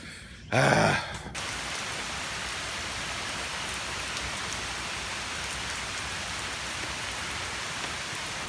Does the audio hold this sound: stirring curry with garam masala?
no